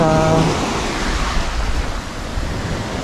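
Sea waves wash onto the shore at Siruma, Camarines, in Bicol. The surf makes a steady, full rush of noise with some wind, and a voice is heard briefly at the start.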